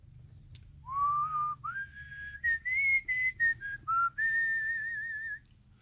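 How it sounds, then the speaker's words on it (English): A person whistles a tune alone, a clear, fairly loud melody of sustained gliding notes broken into short phrases over a quiet low hum. "Maybe you whistled."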